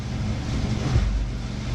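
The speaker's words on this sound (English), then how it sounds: "you have to excuse the noise of the furnace," A furnace heater runs steadily in a workshop where an exhaust header pipe is being wrapped for a Can-Am Outlander XMR 850, giving a constant low rumbling hum with no speech over it.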